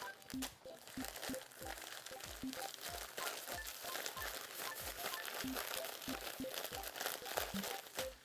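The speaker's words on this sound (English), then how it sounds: "I'm going to seal the bag up and work that color into the sugar with my hands" A sealed plastic bag of colored sugar being massaged and tossed by hand, giving faint, steady crinkling and crunching with soft rhythmic squeezes throughout.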